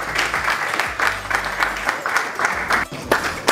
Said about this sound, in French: Madame Karamanko, on va l'applaudir.